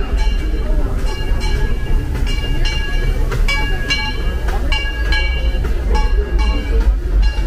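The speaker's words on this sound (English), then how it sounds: "And here comes the train." A train rolls past at a Disneyland parade area with a steady rumble and a rhythmic clacking of wheels, while people talk nearby.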